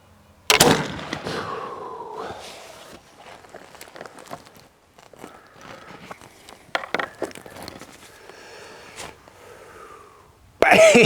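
A flintlock black powder rifle with slow ignition fires one loud, close shot near the start. A hissing, whooshing trail follows, then scattered faint shuffling and handling sounds, and another sharp burst comes at the very end.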